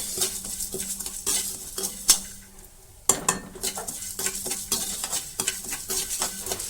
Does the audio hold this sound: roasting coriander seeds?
yes